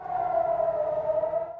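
Air raid siren sounding over Jerusalem, a steady loud wailing tone holding throughout without a break, no voices.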